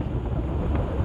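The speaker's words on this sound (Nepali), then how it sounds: "यो हावाले दुःख दियो यार सही दुःख दियो" Wind buffets the microphone during a KTM motorcycle ride through traffic, a continuous low, roaring rumble that stays close and loud with no talking.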